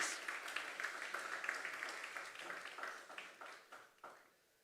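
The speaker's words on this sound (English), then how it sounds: "give the radio saxographer a round of applause again, please" An audience at a live awards ceremony in Mayaro applauds a saxophonist, a dense patter of many hands that holds steady, then thins and dies away near the end.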